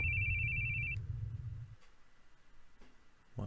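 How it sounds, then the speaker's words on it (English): A telephone rings in The Boogie Man video game, one short electronic trill over a low hum that cuts off after about a second and leaves quiet ambience. "Oh, the phone rings again."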